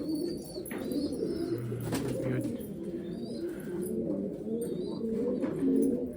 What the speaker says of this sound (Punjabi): ਇੱਕ ਕਬੂਤਰੀ ਚੋਗਾ ਦੇਂਦੀ ਆਪਣੇ ਬੱਚੇ ਨੂੰ